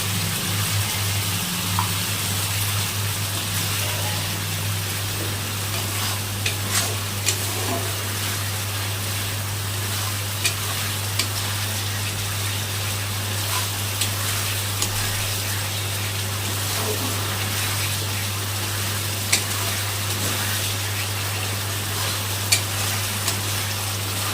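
Spices fry in a pan for a taro and chickpea curry as water is added, a long steady sizzle over a constant low hum, with occasional faint scrapes and clicks and no talking.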